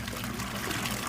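Water trickles and splashes steadily while a portable washing machine is rinsed out, a continuous close watery rush with no voices.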